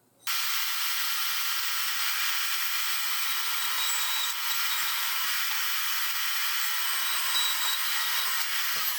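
A saw steadily cuts through aluminum for a set of race cabinets, a continuous bright, hissing rasp that starts abruptly and runs unbroken at a moderate level.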